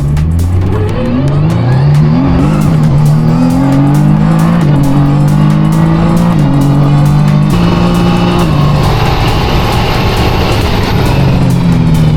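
A 700-horsepower car launches hard with loud tire squeal, its engine note climbing through rising gear pulls, close and intense for the whole stretch without talk.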